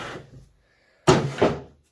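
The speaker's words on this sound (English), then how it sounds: "So we've got a drawer here." A drawer in a newly built wooden workbench slides with a brief rattle, then after a pause shuts with a loud close thud followed by a second knock, near and distinct.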